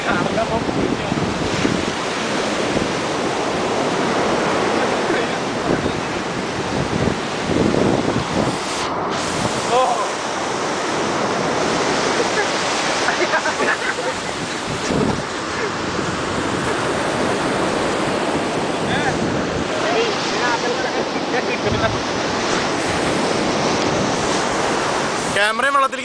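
Sea waves roll onto the shore in a continuous broad roar mixed with heavy wind buffeting the microphone, with surges and dips throughout and faint voices now and then.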